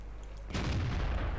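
A tank cannon fires a blind shot in the World of Tanks video game, a single loud boom that starts abruptly and keeps rumbling heavily through the rest of the moment, with no talking.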